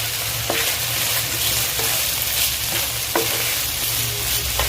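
Chicken stirred in a hot pan gives a loud continuous sizzle, broken by several spatula scrapes and clinks at a slow, uneven rhythm, with no voices.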